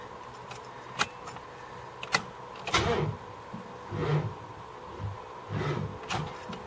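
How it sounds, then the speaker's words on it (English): Keys jangling near the ignition of a 1978 LTD with a flat battery, several sharp metallic jingles and clicks spread irregularly, close and fairly quiet, with some low rustling and thumps between. "The battery seems to have gone flat while it was running."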